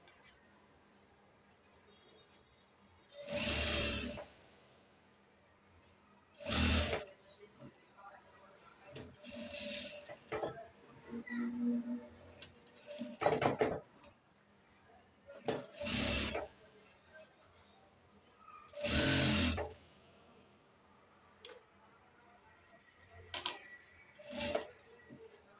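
A sewing machine stitches a zipper into a boy's pajamas. It runs in short bursts of mechanical whirring and ticking, separated by pauses filled with quieter handling noises, and there is no clear talking.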